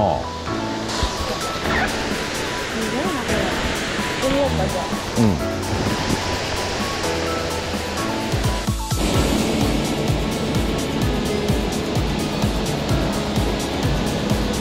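Swollen, high-running river water rushes in a continuous loud roar near Takachiho in the Kumamoto area, with people talking over the torrent throughout.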